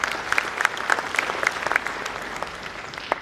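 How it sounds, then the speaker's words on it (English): An audience applauds a performance by young men and women, dense rapid clapping at a steady, fairly loud level throughout with a few sharper individual claps standing out. "I think they deserve another round of applause."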